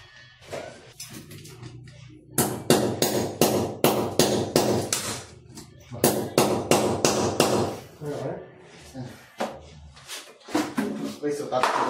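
A hammer strikes repeatedly during house electrical work, fitting a sub meter and breaker, in sharp rhythmic clusters of loud blows with short pauses, as people talk between the bursts.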